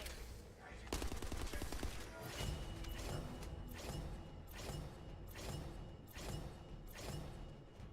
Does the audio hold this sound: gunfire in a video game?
yes